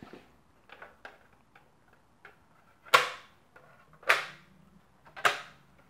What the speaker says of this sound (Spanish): Estos puntitos va colocado con imanes, tal que así.